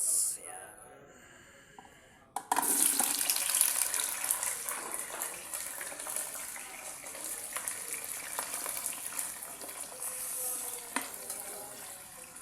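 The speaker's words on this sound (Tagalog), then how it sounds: "prito ko muna yung ano niya, carrot sa patatas" Carrots and potatoes hit hot oil in a pan with a sudden loud sizzle, then settle into a steady crackling fry that continues for about ten seconds, close and fairly loud.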